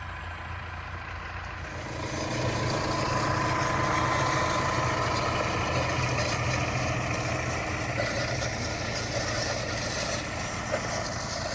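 A tractor pulling a seed drill for wheat trial plots runs in a field, its engine droning steadily at close range after swelling louder about two seconds in, with mechanical rattling over the hum and no talking.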